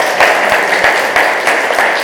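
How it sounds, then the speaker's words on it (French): Guests at a farm gathering applaud loudly, with dense, close clapping from a sizable group in a steady, continuous burst. "je vais vous demander de leur donner une grande main d'applaudissement"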